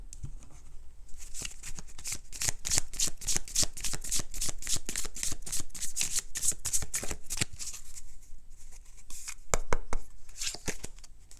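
A deck of oracle cards is shuffled by hand, a rapid run of crisp, papery riffles and slaps repeating steadily at close range for several seconds, then a few final taps.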